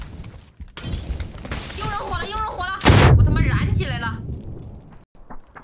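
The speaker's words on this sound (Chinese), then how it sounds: "我扔雷了，我扔雷了。" A grenade detonates with a loud, sharp blast in a video game firefight, followed by a rumbling decay, with excited players shouting over voice chat before and after.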